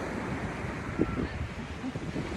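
Ocean waves wash steadily onto Dinadiawan beach in Aurora, a broad surf wash blended with wind buffeting the microphone, with one brief louder surge near the middle.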